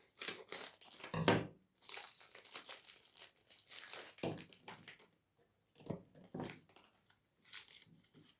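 A crinkly plastic snack bag is torn open and crumpled close by in repeated bursts of crackling with short quiet gaps.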